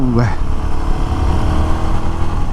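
A Royal Enfield Guerrilla 450 motorcycle engine rumbles steadily at a low, even pitch, loud and close, with a person talking over it.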